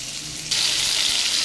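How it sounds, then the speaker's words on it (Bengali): Eggplant and potato fry together in hot mustard oil, and a bright, steady sizzle jumps louder about halfway through, with faint stirring knocks beneath and no talk. "তারপরে বেগুন আর আলু একসাথে ভেজে নিচ্ছি"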